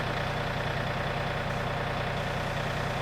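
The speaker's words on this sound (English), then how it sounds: "I'm gonna try pushing it with the tractor bucket." A John Deere 3025e compact tractor's engine idles steadily nearby, a constant low rumble holding even throughout with no talk.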